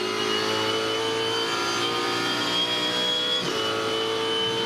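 Supercars V8 race cars screaming past at around 240 km/h in fifth gear during a 2013 race at Ipswich, a loud continuous high-revving engine roar with a slight pitch drop near the end.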